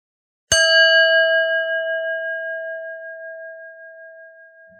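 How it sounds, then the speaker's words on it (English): A single bell is struck once, giving a clear ringing tone that hangs in the air and fades slowly over several seconds. "staying alert for when you hear the sound of the bell"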